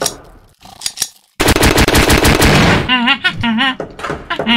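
An AK assault rifle fires rapid sustained automatic bursts in a horror-themed video game, loud and close, and a voice shouts over the later shots.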